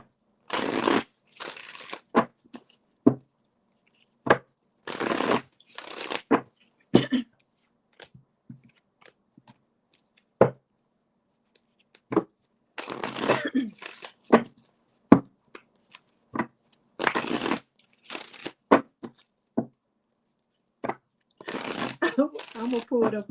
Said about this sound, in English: let me put these cards up so I can shuffle them and we start up.